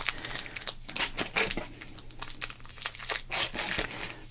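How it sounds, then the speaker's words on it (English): Packing peanuts handled close up during a sports card unboxing, giving dense, continuous crinkling and rustling with bursts of crackle and no talking. "Oh, gotta put those packing peanuts back in."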